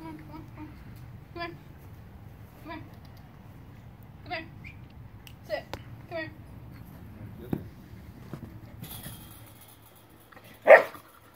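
A husky and an Australian Shepherd puppy bark in short, scattered bursts at moderate distance, with children's voices chattering in the background and a sharper, louder yelp near the end.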